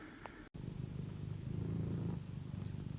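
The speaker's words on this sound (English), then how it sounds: "You can probably hear the cat purring." A cat purrs softly and close by in a quiet indoor room, a low rhythmic rumbling that swells and eases over a few seconds, with a brief dropout near the start.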